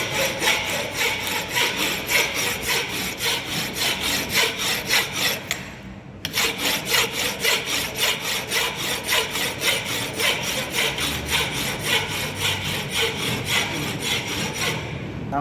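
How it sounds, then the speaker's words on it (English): A hand file is pushed forward and back across a tightly held metal workpiece for a welded corner joint. Steady, rhythmic rasping strokes repeat up close, broken by one short pause midway. "hold it tightly, then forward and backward direction, you have to file it"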